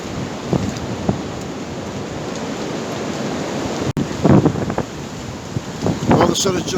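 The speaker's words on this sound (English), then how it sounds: "We're still having some gusts of wind." Wind gusts from Storm Eunice buffet and roar in surges through woodland at night, with a brief sharp crack near the middle and louder rushing bursts toward the end.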